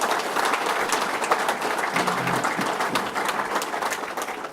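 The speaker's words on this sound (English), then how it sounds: "Let's give the chairman a round of applause." A crowd at an outdoor fishing tournament gathering applauds the chairman, steady dense clapping sustained for several seconds with no break, loud and fairly close.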